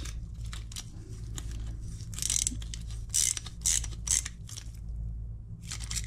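Hope bicycle pedal bearings being tightened with a tool, giving a run of close ratcheting, clicking mechanical bursts over a steady low hum, with short pauses between turns.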